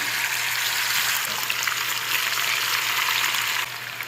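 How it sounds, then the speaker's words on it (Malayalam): Masala-marinated chicken hits hot coconut oil in a pan, giving a loud, dense, continuous sizzle and crackle that drops slightly near the end. "ചൂടായ വെളിച്ചെണ്ണയിലേക്ക് നമ്മൾ നേരത്തെ മസാല പുരട്ടി വെച്ച ചിക്കൻ ചേർത്ത് കൊടുക്കുകയാണ്."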